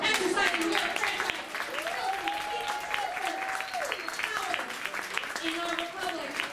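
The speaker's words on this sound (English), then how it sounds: "Give yourselves, America, a round of applause for exercising your franchise" Audience applause in a theater, a mix of clapping and cheering under a sustained sung or spoken voice, fairly close and continuous.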